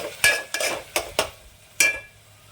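A spoon stirs cooked cucumber pieces in a pan for a cucumber and okra curry, giving five or six sharp scraping clinks against the metal over a low background sizzle, close and fairly loud.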